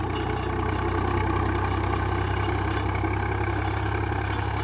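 A Swaraj 45HP tractor engine runs in second gear with a loud, steady, close drone that holds an even throbbing rumble throughout, and no voices are heard.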